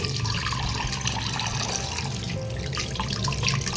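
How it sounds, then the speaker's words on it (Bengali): Whole fish being rinsed under a running kitchen tap, steady splashing water into a sink with small drips and handling sounds, close and fairly loud. "আমি মাছগুলো ধুয়ে নিই"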